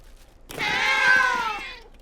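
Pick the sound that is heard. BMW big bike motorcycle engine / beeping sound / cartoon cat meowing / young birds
cartoon cat meowing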